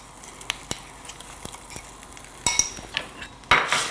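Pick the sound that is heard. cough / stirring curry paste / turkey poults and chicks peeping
stirring curry paste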